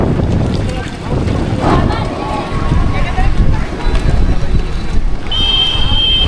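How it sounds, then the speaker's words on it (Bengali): Strong stormy wind blows at night in Mayapur, a loud, constant rumbling buffet across the microphone, with a person talking over it throughout. "প্রচণ্ড ধুলো, এখানে তাকানো যাচ্ছে না, এত ঝোড়ো বাতাস চলছে এখানে।"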